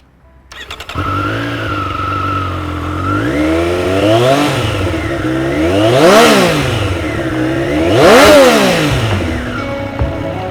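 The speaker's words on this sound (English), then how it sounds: "let's listen to his exhaust sound" A 2020 Triumph Street Triple R motorcycle starts up, idles, then is revved hard twice, its exhaust rising to a loud snarling peak and falling back each time, close by with no talking.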